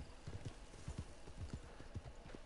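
Horse hooves clip-clopping in a video game, a quick steady run of hollow clops at a walking gait, moderately close over faint background ambience.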